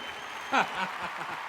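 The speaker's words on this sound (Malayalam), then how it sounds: "പക്ഷെ കയ്യടി കുറച്ചുകൂടെ ശക്തിയാവണം കേട്ടോ" Faint, steady clapping from a crowd forms a soft wash of noise, with a brief voice rising over it partway through.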